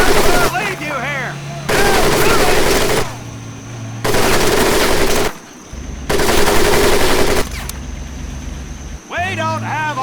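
Machine gun fire over a mud pit in the video game Medal of Honor Pacific Assault, three long, loud sustained bursts separated by short pauses, with voices shouting at the start and end.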